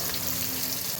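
Onion and green chili frying in oil for a potato curry, a steady close sizzle with no talk over it.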